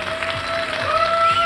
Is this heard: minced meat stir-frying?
no